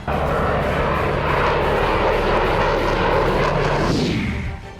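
A Mirage fighter jet's engine roars loud and continuous with a broad, steady rumble, swelling slightly toward the end before easing off.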